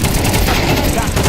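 Loud, close gunfire from a Rainbow Six video game esports match, a brief dense barrage of overlapping shots with a caster's voice faintly beneath.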